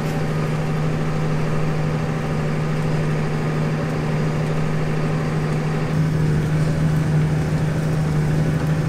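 A tractor engine idles steadily with a low, even hum during fertilizer spreading. The hum stays unchanged and loud throughout, with no voices.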